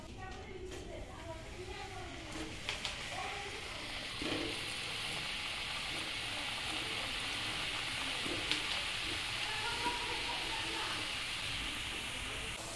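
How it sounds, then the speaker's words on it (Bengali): Puli pitha dumplings fry one by one in hot oil, a soft, steady hiss that runs beneath nearly continuous talking. "এবার আমি একটা একটা করে ভেজে নেব"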